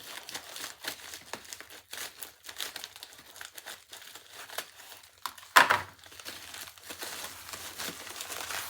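A plastic priority mail package is cut open and handled up close, giving steady crinkling and rustling with one sharper tearing burst partway through, no talking.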